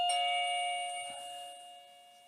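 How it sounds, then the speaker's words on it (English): An electronic doorbell chime being tested beside a door rings out one sustained, bright bell tone that slowly decays over a couple of seconds, heard alone and fairly close. "so we can see how this doorbell works"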